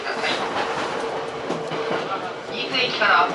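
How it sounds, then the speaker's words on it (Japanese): JR East Shinetsu Line train pulling into platform 2 at Niitsu station: steady rolling and rail noise fills the carriage under an onboard announcement voice, with faint high squealing rising near the end. "ご利用の電車は新津駅2番線の到着です。"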